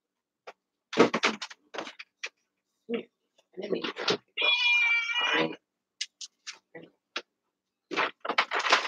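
A house cat being held indoors meows in short, scattered calls with one longer, stronger cry in the middle, fairly close and moderately loud.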